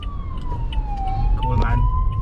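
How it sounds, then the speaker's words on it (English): An ambulance siren wails from a road near the Parambikulam Tiger Reserve, its tone sweeping slowly down and back up over steady vehicle rumble, close and fairly loud. "There is an ambulance, let's get out of the way."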